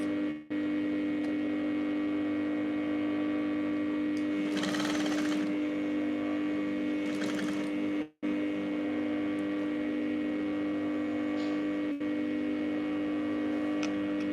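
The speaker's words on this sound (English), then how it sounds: "I'm just going to be stitching it round very easily like that." A sewing machine steadily stitches around a sleeve, its motor a continuous close humming drone with a few brief pauses and a small clatter midway, moderately quiet and with no speech.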